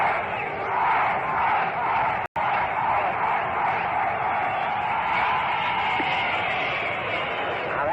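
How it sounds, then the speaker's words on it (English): A bleacher crowd at the Polo Grounds during the 1937 World Series between the Yankees and Giants roars a long, sustained cheer from the distance. It sounds like an old broadcast recording, with one brief dropout. "went out there in the deep center field to lead the bleachers into a cheer"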